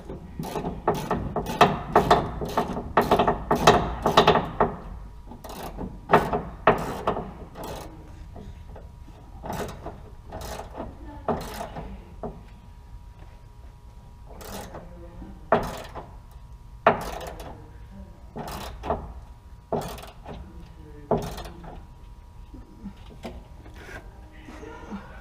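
Tightening down a FASS lift pump during installation, with a ratchet clicking in dense bursts early on, then sparser, spaced mechanical clicks and knocks over about 25 seconds, close and moderately loud, with no talking.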